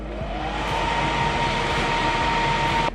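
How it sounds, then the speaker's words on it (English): A wood burning fireplace insert's blower fan spins in a steady whir, with a thin whine that climbs slightly as it comes up to speed and then cuts off abruptly near the end. "when you turn on the blower"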